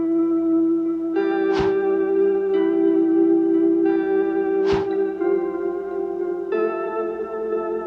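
Spacey lo-fi electric guitar run through a tape echo effect in Ableton, sustained notes smeared by repeating echoes and wobbly reverb, with two sharp bright pick attacks standing out, steady and fairly loud throughout with no talking.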